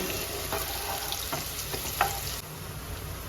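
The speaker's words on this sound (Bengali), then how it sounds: "পেঁয়াজটাকে একটু হালকা ভেজে নেব" Oil sizzles and crackles steadily as chopped onion fries lightly in a pan for jackfruit dopiaza, with a few soft stirring scrapes.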